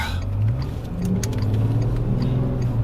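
Twin-turbo 600 hp V12 Bentley GTC Speed driving on the street, a steady low engine drone from inside the car that swells slightly as it pulls, close and continuous with no talk.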